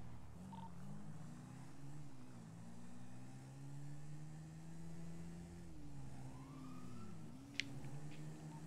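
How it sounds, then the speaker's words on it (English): A police siren in the video game GTA 5 wailing steadily in the distance over a low engine hum, fairly faint, with one brief sharp click near the end and no talk. "Oh, I hear cops."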